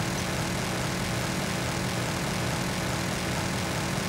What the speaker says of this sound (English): You got an invisible shooting plane.